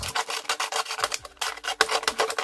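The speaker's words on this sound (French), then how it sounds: "Et je vais également abîmer les bords." Paper edges distressed by hand for a scrapbook page, a series of quick, rasping rubbing strokes in short bursts, close up and alone.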